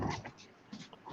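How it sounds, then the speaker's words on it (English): A big dog whimpers and whines in short, faint, uneven bursts close to the microphone, with soft breathy gaps between the cries. "he's a big dog"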